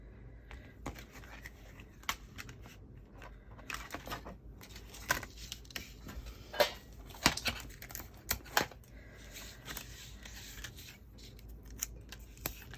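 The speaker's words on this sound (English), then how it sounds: "Get my machine going. And we can cut both of these at the same time." A craft die-cutting machine cutting two pieces at once: quiet, irregular mechanical clicks and ticks, closely spaced, with a cluster of sharper clicks toward the middle.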